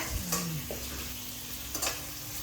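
Chopped onions fry in a pan for veg fried rice, a faint, steady sizzle broken by a few scraping stirs of a spatula, with no voices.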